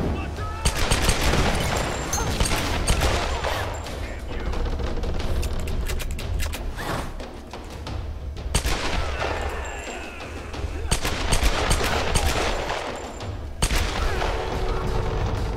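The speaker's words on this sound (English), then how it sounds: "that's the guy with the machine gun" Machine gun fire in the Tomb Raider video game, repeated bursts of rapid gunshots and booming impacts through most of the stretch, loud and close, with people talking over the gunfire.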